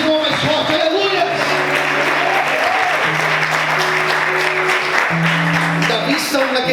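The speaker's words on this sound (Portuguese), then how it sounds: "Aplauda ao Senhor mais forte, aleluia." A church congregation claps loudly and steadily throughout a Sunday morning service, the applause dense and continuous while sustained musical tones and a preacher's voice carry over it.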